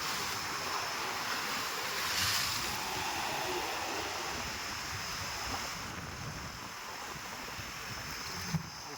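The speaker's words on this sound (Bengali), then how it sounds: "পূবের দিকে ঢেউ প্রবেশ করছে, আবার এই পশ্চিম দিক দিয়ে ঢেউ আসছে" Bay of Bengal waves wash steadily onto a white-sand beach during a low-pressure system, with a broad rolling hiss, wind buffeting the microphone now and then, and no voices.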